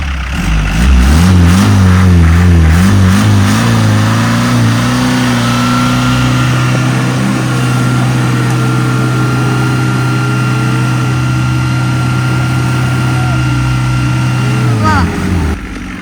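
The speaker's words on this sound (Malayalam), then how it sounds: "ഇതിൽ വണ്ടി കയറി പോകണം" Vehicle engine straining and revving hard while climbing a dry stream bed in a forest, a loud, close, sustained drone with shifting pitch for the whole stretch, with people talking over it.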